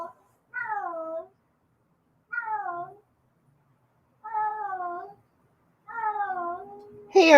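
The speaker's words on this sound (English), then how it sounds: "here goes my cat" A cat meows four times in evenly spaced, clear, close calls, each a short falling cry separated by silence, with a brief louder sound at the very end.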